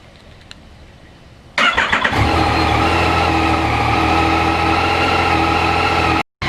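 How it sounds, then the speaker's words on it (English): A Yamaha MT-09 motorcycle engine cranks and catches after a quiet moment, then settles into a loud, steady idle close by for several seconds before cutting out abruptly; no talking. "Time to warm up the engine and let it get the operating temperature and dump the oil."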